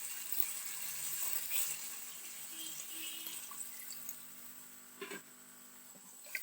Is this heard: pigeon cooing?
no